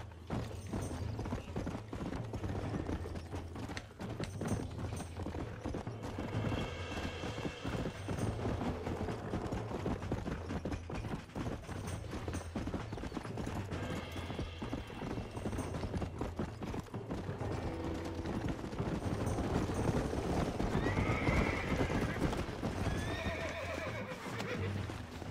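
Galloping hoofbeats run steadily throughout while a wild horse neighs and whinnies several times, during a lasso attempt in Red Dead Redemption on Xbox 360. The sound is loud and busy, with mechanical game noises mixed in.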